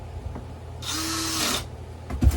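A heavy-duty power drill drives an axle bolt into an electric skateboard wheel during a tire change, one steady whir of just under a second that spins up and winds down, close by with a clunk afterward.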